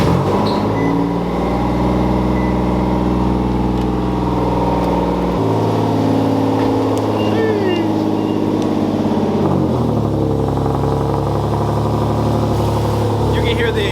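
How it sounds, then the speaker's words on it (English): A car engine idles and revs with an exhaust leak, its low rumble and rasping tone steady and close throughout, at a California car meet where people talk nearby. "You can hear the exhaust leak."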